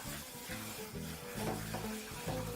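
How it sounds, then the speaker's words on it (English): Empanada mince filling cooks in a little oil in a pan while being stirred, giving a soft, continuous sizzle under repeated scraping and shuffling strokes, close and fairly quiet. "just a little bit of oil to ensure that your mixture doesn't burn while cooking in the pan"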